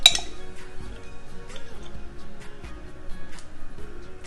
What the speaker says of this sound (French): Donc là je vais rajouter de la moutarde dans la marinade.